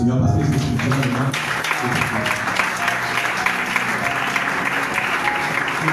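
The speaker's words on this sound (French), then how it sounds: "je veux que tu acclames le Seigneur parce que c'est scripturalement" A church congregation at a worship service applauding the Lord, dense sustained clapping from a crowd filling the room, with a voice speaking over the opening moments.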